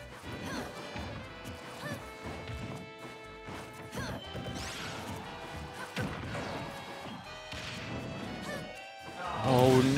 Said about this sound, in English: He's just spamming these up smashes and dodging everything.